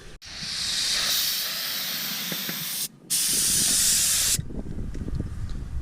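Compressed air hissing hard from an air hose on a farm during equipment painting, loud steady bursts with a short break near the middle, then a softer hiss with faint clatter.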